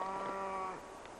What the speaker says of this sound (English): we can hear a friendly cow back in the distance saying hello